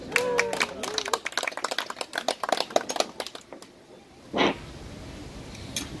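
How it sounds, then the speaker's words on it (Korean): Banquet guests applaud in a hall: dense, crisp clapping from a crowd that fades out after a few seconds, with a voice briefly heard at the start and a few scattered sounds afterward. "다시 한번 박수"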